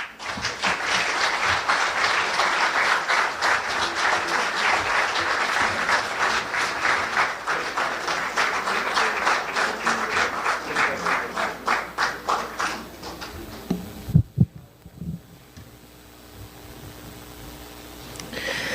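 Sustained applause from an audience after a speech at a book presentation in Peru, dense steady clapping for about thirteen seconds before dying away into a few last claps and quiet room noise.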